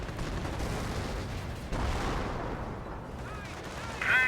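Frag grenade exploding in the World War II strategy game Company of Heroes, a dull blast rising out of a dense bed of rifle and machine-gun fire, followed by more muffled gunfire and a short chirp near the end.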